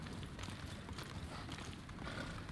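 Horse hooves galloping in Ghost of Tsushima, a fast, even drumming of hoofbeats under a dense, constant wash of game ambience, moderately loud and unbroken for a couple of seconds.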